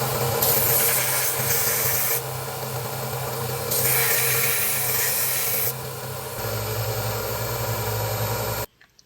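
A titanium pendant being sanded with high-grit paper gives a steady, close rubbing hiss in long strokes that swell and ease for several seconds, alone, before stopping abruptly.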